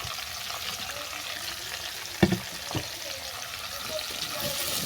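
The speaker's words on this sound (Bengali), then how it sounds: "এই সবজিগুলো সব ভালো করে ভেজে নেব অল্প করে নেড়ে" Vegetables frying in a pan: ridge gourd, pointed gourd, radish, potato and pumpkin. A steady soft sizzle runs throughout, with a couple of brief knocks of stirring near the middle.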